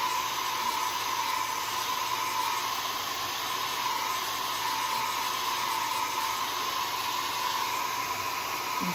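A hair dryer runs steadily at close range in a craft workspace, giving a continuous loud hissing whoosh with a constant whine that never changes for the whole stretch.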